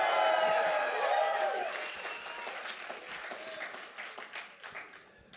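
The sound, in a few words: congregation applauding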